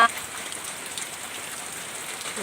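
Rain pours down onto a surface in a dense, constant patter of drops, moderately loud and unbroken, with a brief sharper tap at the very start and no voices.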